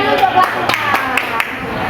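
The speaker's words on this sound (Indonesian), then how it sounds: "Tepuk tangan untuk belakang." A few scattered hand claps, sharp and close, over a steady murmur of background voices.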